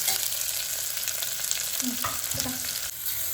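Onions fry in hot oil toward golden brown, giving a steady, close, loud sizzle with faint stirring scrapes throughout.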